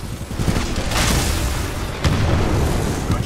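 A Reaper being destroyed in Titanfall 2, heard as a loud booming explosion with a sustained roaring blast, followed by a second sharp burst and continuing rumble, close and intense.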